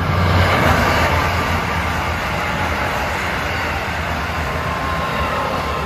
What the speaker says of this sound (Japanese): ぼーっとしている時キハ85定期列車がやってきてしまいました